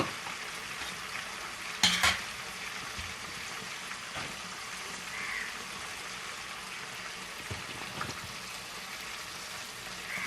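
Red chilli, turmeric and coriander powders being sautéed in oil for a black gram dal with shrimp, a quiet hiss with occasional spoon scrapes and a couple of louder clatters against the pan.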